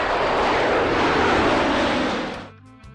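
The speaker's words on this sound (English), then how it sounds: "A is for aeroplane." A fixed-wing aeroplane flies past as a loud, broad engine roar. It holds steady, then fades away quickly near the end.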